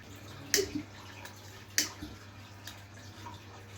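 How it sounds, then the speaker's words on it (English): Gas released into a bottle of water makes two sharp bursts of bubbling and splashing, followed by quieter gurgling and a steady low hum, close by with no talk. "Now the gas is going into the water."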